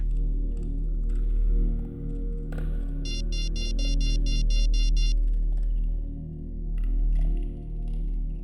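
A telephone rings during an outgoing call, a rapid electronic ringtone burst of repeated pulses over low background hum, with a few clicks and thumps around it.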